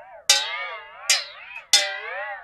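A pencil eraser strikes a metal bowl holding a little water three times, each hit a bright ringing chime whose pitch bends and wobbles with the water before fading, close and clear.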